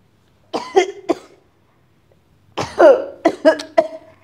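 In a room, someone gives two quick bouts of coughing, a short rasp followed by a longer run of hacking coughs, close and clear against silence.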